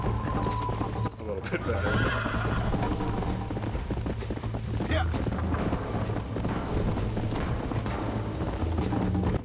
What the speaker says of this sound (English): My horse is pissed. I guess I rode it too hard.